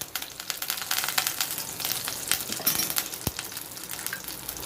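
Fenugreek seeds, cumin, broken dried chillies and curry leaves sizzle in hot oil for a festival offering, a steady close crackle and hiss with scattered sharp pops, no talking.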